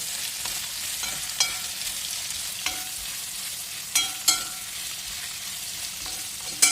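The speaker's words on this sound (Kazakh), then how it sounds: "Араластырып қуырыңыздар." Carrots and onions stir-fry in a pot for plov, a constant close sizzle punctuated by occasional sharp scrapes and knocks of the stirring utensil.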